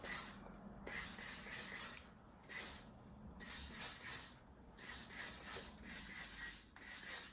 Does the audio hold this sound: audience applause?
no